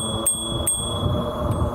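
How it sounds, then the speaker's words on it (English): A bicycle bell on an Ariel Rider Kepler V2 e-bike gives three quick, bright rings outdoors on a lakeside trail, with wind and road noise rumbling underneath. "My bell."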